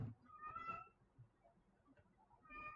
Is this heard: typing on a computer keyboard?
no